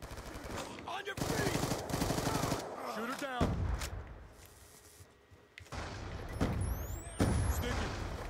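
Online Call of Duty match with bursts of rapid automatic gunfire, dense rattling volleys broken by short pauses and a few louder booms, all close and loud, with a player's voice cutting in at times.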